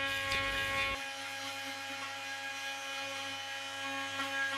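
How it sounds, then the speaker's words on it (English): A Bosch GOP 300 SCE oscillating multi-tool fitted with a grout remover blade runs with a steady high buzzing drone, preceded by a brief rougher burst at the start, close and without speech. "The AV70 RT 3 Max grout remover will remove grout and adhesive even in the most inaccessible corners."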